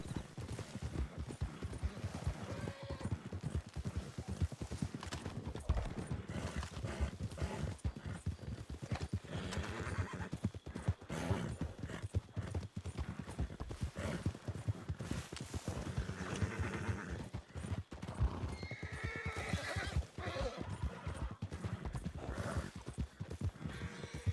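In a roleplay video game a horse clip-clops steadily and busily for a sustained stretch, with occasional neighs rising over the dense, continuous hoofbeats.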